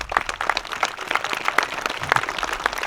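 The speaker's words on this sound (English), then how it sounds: "You can clap for them because all praise to the Most High." An audience at a religious Feast of Tabernacles gathering applauds the hosts, a dense, steady clatter of many hands clapping close by throughout, with no talk over it.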